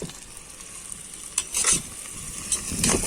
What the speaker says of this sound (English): Let's fry the onions with that.